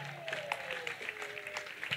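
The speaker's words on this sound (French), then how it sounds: "Acclamation à Jésus" A church congregation applauds in praise during a Sunday-style gathering, a dense patter of clapping that carries steadily for two seconds with a faint voice or tone mixed in.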